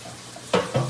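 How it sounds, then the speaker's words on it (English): Chicken livers frying in a pan on a stovetop, a soft low sizzle that swells into two louder bursts of crackling and spattering near the end, close by with no talking. "They need to sizzle a while longer."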